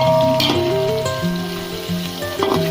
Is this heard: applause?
no